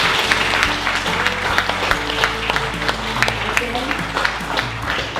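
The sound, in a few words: audience applause at a book launch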